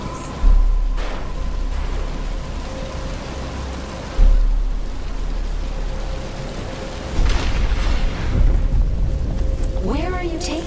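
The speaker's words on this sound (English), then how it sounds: "But it's starting to rain." Rain and thunder in a Batman Arkham Asylum game cutscene: a steady hiss of rain broken by three heavy, booming thunder rumbles, with a rising tonal whine near the end.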